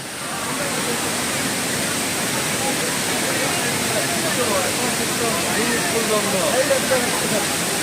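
Rushing water at Hogenakkal falls makes a broad, constant roar that swells after a quieter first half-second and stays loud and steady throughout.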